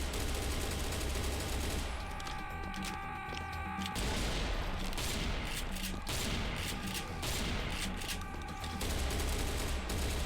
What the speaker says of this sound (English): I think I'll assault rifle the rest of them just because they're kind of far away.